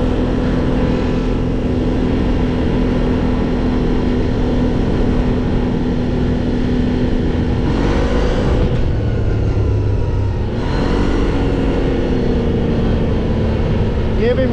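A CF Moto 1000 utility vehicle, unrestricted, drives along with a steady, loud engine drone and a couple of brief surges, close up throughout; a person talks over the running engine.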